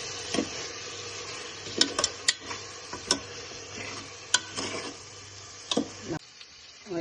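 A spoon stirs chicken coated in masala, coriander and mint for chicken biryani, with repeated scraping clinks against the pot at an uneven pace over a low sizzle, close by and without speech.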